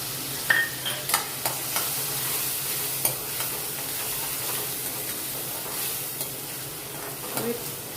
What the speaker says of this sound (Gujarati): એક થોડો ગુલાબી કલરનો થાય કાંદો ત્યાં સુધી આપણે સાતવી લઈશું